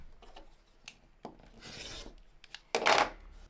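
Quilt fabric pieces for a Dear Jane block being trimmed, with soft close rasping cuts and brushing strokes in a few short bursts, the last one loudest, in a quiet room.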